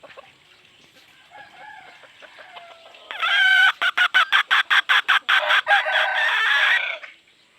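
A fighting rooster crows loudly and close, a long crow broken into rapid pulsing bursts, after softer clucking and bird calls.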